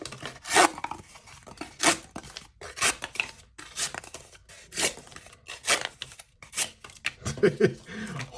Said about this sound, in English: it's actually cutting through that cardboard like nobody's business